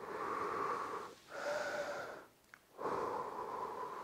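Heavy, loud breathing during a home fat-loss workout: two long airy exhalations, a pause with a small catch, then another drawn-out breath, close to the mic with no talking.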